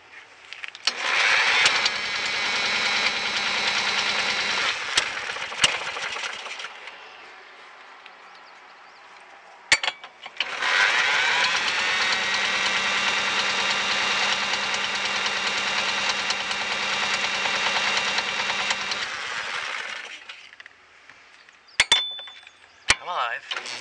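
An old, battered John Deere engine, started with a leaf blower, coughs to life and runs steadily with a loud, knocking mechanical drone, drops briefly to a quieter idle, then revs up again before cutting out, with a voice heard briefly.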